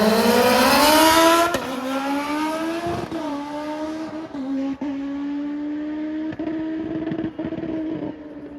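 A supercharged Suzuki Hayabusa drag bike launches hard off the line, its engine screaming loud and close. The engine climbs through rising revs, and brief dips mark each quick gear change as the bike runs away down the drag strip.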